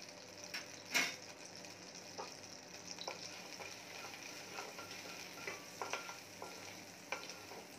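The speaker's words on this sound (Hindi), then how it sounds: "मखाने को हम 2 मिनट तक रोस्ट कर लेंगे।" Fox nuts (makhana) roasting in ghee in a hot wok for Janmashtami prasad make a faint, steady sizzle with light scraping stirs and a few sharper clicks, with no talking.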